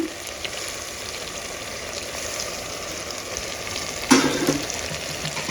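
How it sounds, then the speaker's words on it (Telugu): Chicken kushka frying in a pan with small onions as yogurt is stirred in, a steady broadband sizzle running throughout, with a louder burst of spattering and stirring near the end; no talking. "పెరుగు వేసుకొని ఫాస్ట్గా కలపాలా లేదంటే గడ్డలు కట్టేస్తుంది"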